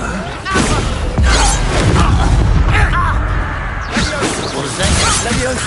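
Confringo fire spell blasts in the Hogwarts Legacy game, loud crashing booms and whooshes from spellcasting combat that hit in quick succession, mixed with shouted incantations and voices talking throughout.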